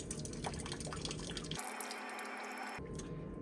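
Water drips and trickles from a supply pipe just pulled out of an NTI boiler cabinet during replacement of the return and flow groups, a close, steady patter that briefly changes to a brighter, hissing run of water before the drips resume.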